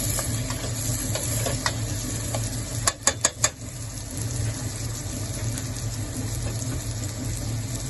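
Roasted gram (pottukadalai) and peanuts sizzle and fry in a pan with a steady hiss, broken by a quick cluster of four sharp clinks or scrapes of a utensil against the pan partway through.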